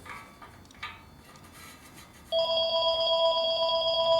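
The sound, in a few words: telephone ringing in workshop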